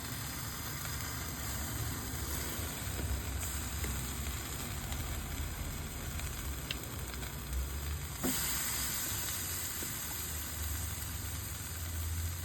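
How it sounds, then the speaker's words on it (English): Chicken meat sizzling over a charcoal grill fire, a steady close crackle and hiss running unbroken throughout with a low rumble beneath, no voices. "You want the meat close to the fire, but not too much close to the fire because you don't want to burn the meat."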